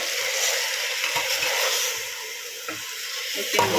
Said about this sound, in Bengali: এবার কষাতে হবে ভালো করে